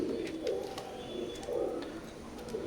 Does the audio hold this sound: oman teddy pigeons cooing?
yes